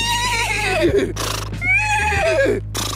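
A person's voice imitates a horse neigh: two loud, shaky whinnies rise and fall, close up, each followed by a short breathy snort.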